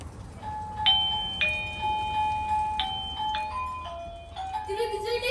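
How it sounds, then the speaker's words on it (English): A Eufy Security video doorbell chime plays Jingle Bells as a short, bright electronic melody of clear bell-like tones. The tune stands out over a low background hum, with faint voices underneath. "We are going to ring the doorbell."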